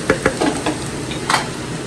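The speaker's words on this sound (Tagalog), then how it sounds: "Haluin lang po natin." Flaked boneless milkfish being stirred for sisig in a pan, several distinct scraping strokes of a utensil over a steady low sizzle, close and fairly loud, with no speech.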